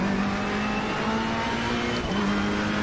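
Mercedes race car braking at Kyalami in Assetto Corsa Competizione, engine drone with a high brake whine holding steady, briefly dropping and returning, loud and continuous with no talk.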